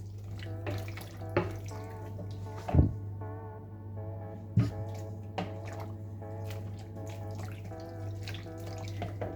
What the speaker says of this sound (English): add more water, more hot water, and strain again